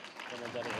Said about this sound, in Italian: facciamo un bel applauso a Domenico